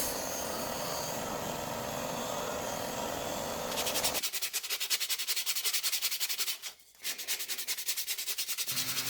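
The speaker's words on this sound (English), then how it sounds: "I use the disc for sanding the circle, just sliding and pivoting it around as tight as I can" Disc sander working a wooden circle cut from a picket, the piece slid and pivoted against the disc; a steady broadband grinding rub shifts to a rapid buzzing whir, with a brief dip near the end.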